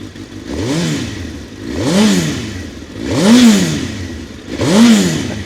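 A 2001 Suzuki GSX-R1000 motorcycle engine, showing 2,846 miles, revs up repeatedly from idle. Four loud, rising and falling throttle blips come in a steady rhythm, close by.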